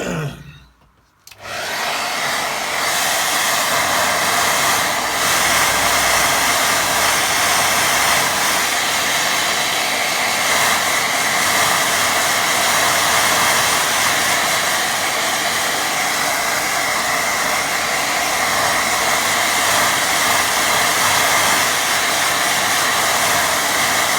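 Hair dryer used to dry a watercolour painting: after a short click and pause it starts up into a loud, steady blowing hum that runs on unchanged for over twenty seconds, close by and alone.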